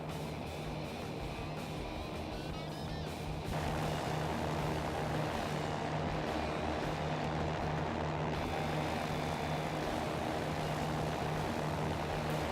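A Cirrus SR20 single-engine propeller plane in flight in the X-Plane 11 simulator drones steadily, with a constant engine hum and propeller buzz that changes character partway through and runs without talk.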